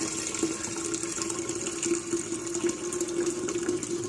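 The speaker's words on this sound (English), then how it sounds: "To make it a little bit easier to bottle, I pour it into a pitcher." Kombucha is poured from a container into a pitcher, giving a steady splashing, trickling stream with a faint ringing tone, continuous and fairly close throughout.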